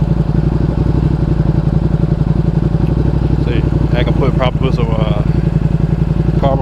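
A 2020 Ducati Panigale V2 motorcycle engine throbs steadily at close range during a road ride, a continuous pulsing rumble with faint clatter and a few brief voice fragments toward the end.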